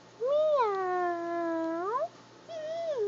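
A young child imitates a cat's meow with a long, drawn-out wavering cry, followed by a shorter second meow after a brief pause, clear and close.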